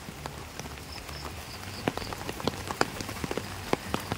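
Heavy rain pours steadily outside, a dense hiss of drops drumming on surfaces with sharper splats and patters scattered throughout, constant and fairly close, with no voices.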